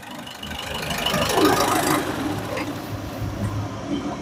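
Engine of a 2015 Ford EcoSport Titanium revving as the accelerator is pressed, a close mechanical hum that swells and then settles back toward idle, with no talking.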